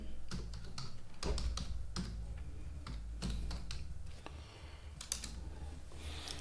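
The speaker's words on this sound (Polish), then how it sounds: "W przeglądarce wpisujemy w3schools.com" Fingers type on a computer keyboard, entering a website address into a browser. The keystrokes are soft and irregular, with close clicking taps in quick clusters and short pauses, all fairly quiet.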